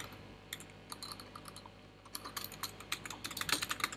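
Fast typing on a computer keyboard while writing HTML code, a quiet stream of irregular key clicks that quickens and grows denser toward the end, close to the microphone.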